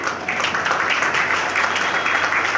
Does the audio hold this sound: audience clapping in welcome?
yes